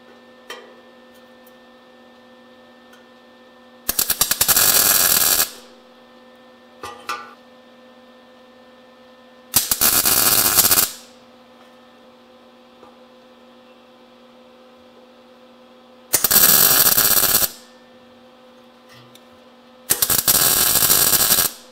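Welded pins are cut off a Yamaha YL1 fuel tank in four loud, harsh cutting bursts of about a second or two each, separated by quiet gaps filled only with a low steady hum.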